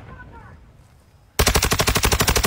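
Automatic gunfire from a shooter video game bursts in suddenly after a quiet start, a loud, fast, evenly spaced stream of about a dozen rounds.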